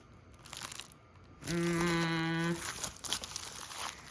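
A bean and cheese breakfast taco comes out of its paper-like wrapper in one close, loud crinkling burst lasting about a second, amid quieter rustling before and after.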